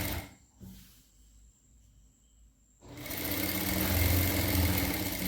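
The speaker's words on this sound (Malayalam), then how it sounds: "ഇതുപോലെ രണ്ട് വശവും നമുക്ക് സ്റ്റിച്ച് ചെയ്തെടുക്കാം" A sewing machine stitches the armhole seam of a kurti, starting with a short burst, pausing through a quiet stretch, then running steadily and loudly to the end with no talking.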